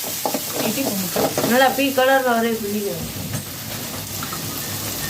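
Chilli parotta masala fries in a pan with a constant sizzle and a busy rattle of stirring, while someone talks over it.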